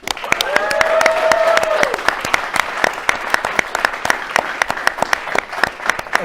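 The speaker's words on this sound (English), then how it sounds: "Let's have a final round of applause for our game-winning team today." A crowd applauds a game-winning team at a Destiny Trials of Osiris livestream event, with dense, loud clapping, sharp individual claps and a brief cheer near the start.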